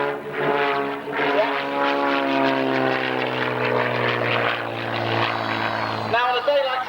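A propeller aerobatic display plane flies at an air show, its engine drone loud and steady, then dropping and changing pitch near the end, under continuous commentary.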